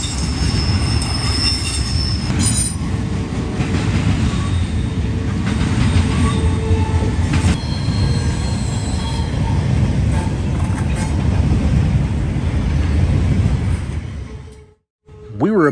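A high-priority eastbound intermodal freight train rolls past at close range in Elkhart, Indiana, a loud continuous roar of railcars with squealing wheels and rattling, fading briefly near the end.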